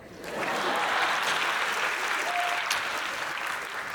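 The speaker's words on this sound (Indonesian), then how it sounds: "Tepuk tangan boleh kali." Audience applause at a live talk event, a dense steady clapping from a large crowd that swells in quickly and holds loud and close for several seconds.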